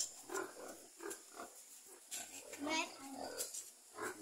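Pigs grunting at a rural farm, with short low grunts and snorts repeating irregularly at moderate distance under quiet background noise and some faint human voices.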